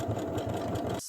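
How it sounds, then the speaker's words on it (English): A sewing machine runs in a fast, even chatter while stitching a label onto the inside of a collar stand for a tinsel dress, then stops abruptly at the end. "I am now just going to sew one of my labels onto the collar stand on the inside."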